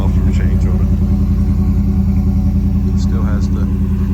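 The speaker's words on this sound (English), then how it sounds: "Sounds like a Mustang. It's a stock exhaust pipe." A lowered 2025 Ford F-150 STX idles with its muffler swapped out, keeping the stock pipe, resonator and catalytic converter, giving a steady, loud, deep rumbling exhaust burble close by, with someone talking over it.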